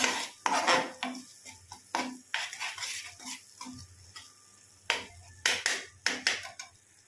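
Ghati masala frying in a pan is worked with a metal spoon, giving irregular scraping clinks and taps against the pan, close and quiet, with no voice.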